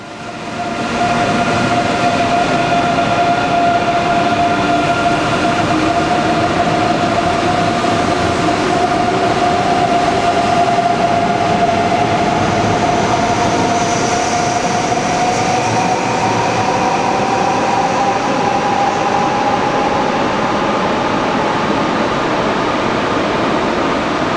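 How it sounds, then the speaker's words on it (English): A Dutch ICE 3M high-speed train arriving at the end of its run from Amsterdam in a Frankfurt station, with a loud, sustained rushing roar and steady tonal whine that shifts slowly in pitch, continuous throughout with no talk. "I always have some time for a bit of train spotting, including this Dutch ICE 3M at the end of its trip from Amsterdam to Frankfurt."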